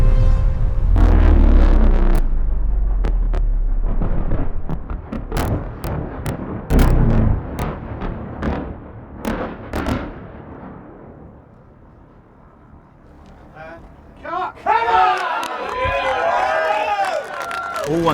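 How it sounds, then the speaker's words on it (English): A massive special-effects explosion for a movie shot erupts in a deep, roaring blast, followed by crackling debris and rumbling. The noise fades into a quieter stretch before excited shouting voices rise. "Largest explosion in the history of movies."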